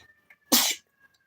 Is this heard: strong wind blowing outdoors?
no